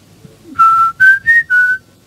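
A person whistles a short ringtone-like tune, four clear sustained notes in a quick rhythmic pattern, close and loud, imitating a phone ringing.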